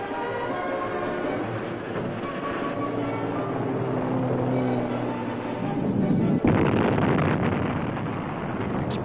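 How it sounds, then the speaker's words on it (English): Explosions blast rock almost daily in the canyon during Hoover Dam construction in a 1955 film, heard as a continuous heavy rumble with a sharper, louder surge of blasting near the end. "Explosions rocked the canyon almost daily for 2 years before actual placing of concrete in the dam began."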